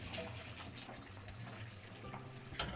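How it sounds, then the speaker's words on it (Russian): Split peas rinsed under a running kitchen tap, a steady close splash and gush of water that stays even and quiet for a few seconds, with no talk. "Нам сейчас нужно всю эту пенку слить, промыть заново горох и набрать чистой водички."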